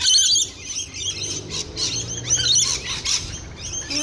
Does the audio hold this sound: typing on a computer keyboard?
no